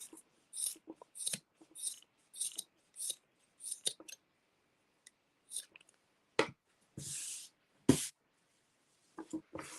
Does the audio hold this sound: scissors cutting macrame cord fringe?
yes